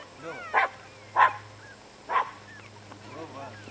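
Small chihuahua dog barking outdoors: three sharp, high-pitched barks spaced about a second apart, fairly close, over quiet background with faint other sounds.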